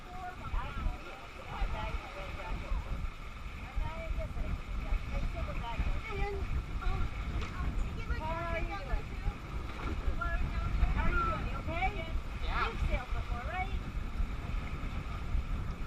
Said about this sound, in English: It's hard to keep it on 210 without the sail doing that little flapping thing